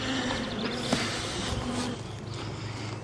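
Honeybees swarming around a busy hive during a spring inspection, a dense close buzzing of many insects with individual wingbeats passing near, continuous and fairly loud.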